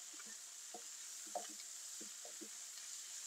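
Paprika and ground black pepper sauté in a hot pan, giving a steady, fairly quiet sizzling hiss with soft scraping and stirring knocks scattered throughout.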